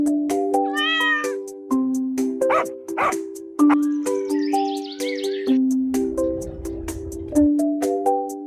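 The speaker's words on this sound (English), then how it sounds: "The cat goes meow, meow, meow, meow" A cartoon cat meows repeatedly over a bright, bouncy children's song with chimes and melody, each meow short and clear among the music.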